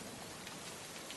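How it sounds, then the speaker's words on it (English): Heavy rain falls as a dense, continuous hiss of many drops on surfaces, even and steady, fairly quiet throughout. "Outside, the rain came harder."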